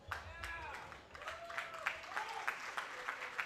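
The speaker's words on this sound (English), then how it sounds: "The applause for Kome Obogu" Scattered crowd applause at a college men's soccer match, Colgate versus Virginia, sounds from the stands for a player getting up after an injury. The claps are distant and uneven, with a commentator talking over them and whistle-like tones drifting through.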